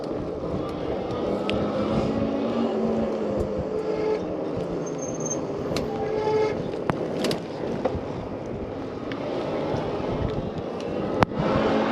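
A Lectric XP eBike rides along an alley in Longmont, Colorado, in 7th gear on pedal assist 3. Steady rolling rumble and wind noise continue throughout, with scattered small clicks and rattles and one sharper knock near the end.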